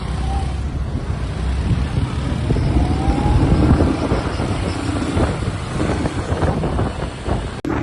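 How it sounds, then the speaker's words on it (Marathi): Road traffic on a Marathi highway drive toward a company, a continuous roar of passing vehicles and engine rumble with wind buffeting the microphone, steady and fairly loud throughout. "बघू शकता तुम्ही, ट्रॅफिक लागलेलं आहे थोडं."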